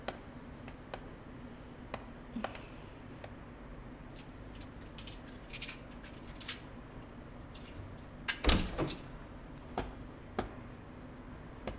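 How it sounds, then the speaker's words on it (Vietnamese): A door is opened in a Vietnamese drama scene. One sharp clunk lands near the end over quiet room tone, with faint scattered ticks and no talking. "Đến mở cửa cái."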